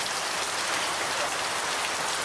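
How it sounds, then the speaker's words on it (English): Steady, dense rain hiss from real rainfall on a tropical fishing trip, a continuous close wash of drops on surfaces with no voices. "Real rain."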